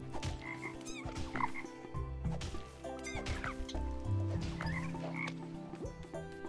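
Frog croaks from the puzzle-platformer Toki Tori 2+, several short ribbity calls repeating through the scene over a busy game soundtrack, mixed with clucking bird sounds, fairly close and steady in level.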